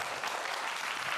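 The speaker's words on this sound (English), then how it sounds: "Please, an applause for them," Hundreds of people in a conference hall applauding, a thick, even roar of clapping with no breaks throughout the short stretch.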